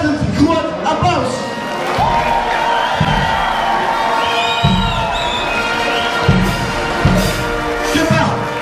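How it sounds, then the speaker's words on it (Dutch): A carnival hall crowd at a youth prince ball cheers, whoops and applauds for the youth prince trio, a loud, dense roar of clapping and shouting with repeated heavy thumps pulsing underneath. "Een ontzettend groot applaus."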